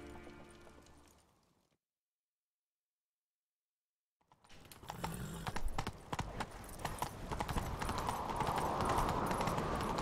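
After a brief silence, horse hooves in The Witcher 3: Wild Hunt clatter in a fast galloping rhythm, growing louder and denser as the sound continues, with no speech.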